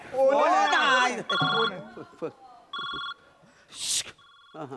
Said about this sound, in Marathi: बायकोचा फोन आहे माझ्या.